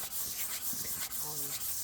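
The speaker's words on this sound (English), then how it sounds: "sanding." An engine part from a 1979 Porsche 911SC is sanded by hand, producing quick rasping back-and-forth strokes of abrasive on metal. The sound is close and continuous, with brief dips between strokes.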